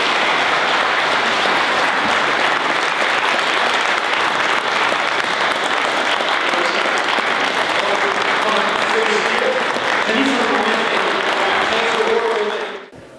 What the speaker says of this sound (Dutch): En ik zou graag een applaus willen hebben voor de Sint-Stevens.